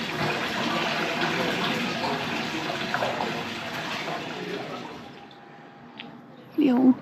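Water runs steadily from an old town fountain or washing basin on a quiet street, a close continuous splashing hiss that fades near the end as a voice speaks.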